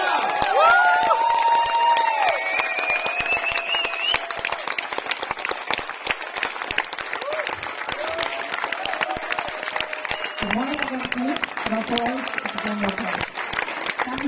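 Applause and cheering from a festival concert crowd at Pax Terra Musica, loud, busy clapping mixed with shouts, and a voice speaking over the crowd partway through.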